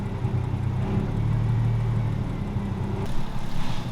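A Toyota 2JZ engine swapped into a BMW E36 idles steadily up close, a continuous low rumble with a faint rise in pitch near the end.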